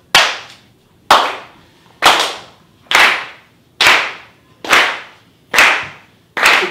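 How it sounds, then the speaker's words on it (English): An audience claps together, sharp, loud claps landing in a steady slow rhythm, about one per second, each with a brief ringing tail, no voices. "So we're going to clap."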